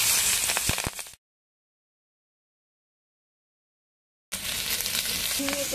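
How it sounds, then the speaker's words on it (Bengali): Kaji fish crisp-frying in hot oil gives a loud, steady sizzling hiss, cut off by a sudden stretch of silence before the crackle resumes just as strongly. "কি সুন্দর কড়া করে মা ভেজে নিয়েছে"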